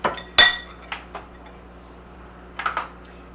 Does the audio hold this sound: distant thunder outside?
no